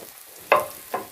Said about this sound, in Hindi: अब इसमें डालेंगे ये 3 अदद काटे हुए प्याज।